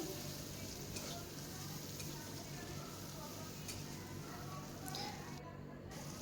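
Salt and ground spices, red chilli, cumin and turmeric, being stirred through a sizzling pan for palak paneer, a steady low frying hiss with faint scraping ticks throughout.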